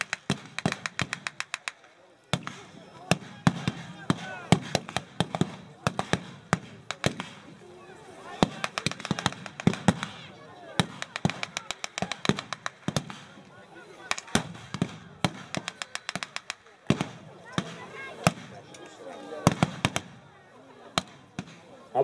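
Cannon and rifle fire at a battle reenactment of the Battle of Gumbinnen, a dense barrage of sharp cracks and booms, irregular and continuous, with distant shots layered under someone narrating.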